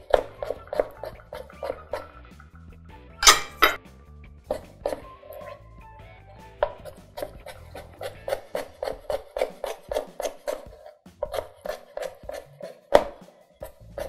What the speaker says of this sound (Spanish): lo vamos a cortar en cubitos